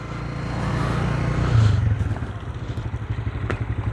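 A tractor pulling a trolley rumbles along a road construction site, a loud close diesel chug with a pulsing rhythm that rises briefly then settles into steady throbbing with rattling.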